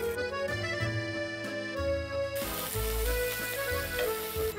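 Sausages sizzling in hot olive oil in a pan, a steady close crackle and hiss running throughout the short stretch with no talking.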